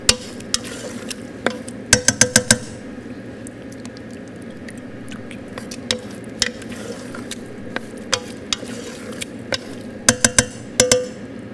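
Cold crème fraîche stirred into pasta cooking in a pot, with a spoon knocking and scraping against the pan in irregular clicks and quick bursts over a low, steady background, close up and without talk.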